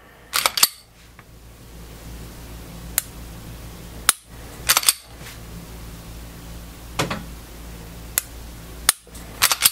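Sharp mechanical clicks of a Smith and Wesson M&P pistol trigger resetting, fitted with an Apex Tactical trigger kit, some single and some in quick pairs, spaced irregularly across a quiet background with no talking.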